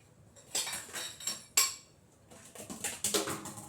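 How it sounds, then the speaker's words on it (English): Dishes and a bowl clatter and clink in a kitchen sink area, several sharp knocks and rattles in bursts with brief pauses, close and fairly loud, no talking. "let me get a bowl or something to put it in"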